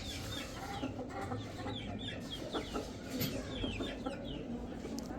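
A young rooster clucks in short repeated calls over steady farmyard background noise, fairly close and moderately loud throughout.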